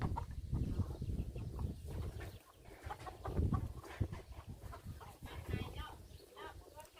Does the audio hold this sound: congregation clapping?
no